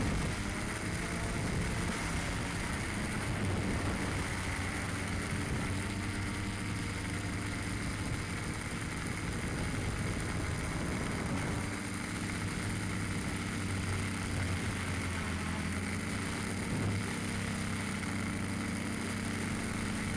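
A model aircraft's engine and propeller drone steadily at altitude, its pitch rising and falling slightly as the throttle changes, with wind noise over it for the whole stretch.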